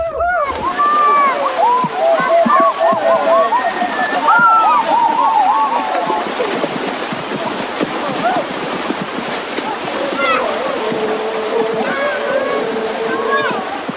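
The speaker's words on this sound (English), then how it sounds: "the men head for a small river on the other side of the village to bathe" Men bathe in a small village river, splashing and sloshing the water in uneven bursts close by, with lively voices and calls carrying over the watery churn throughout.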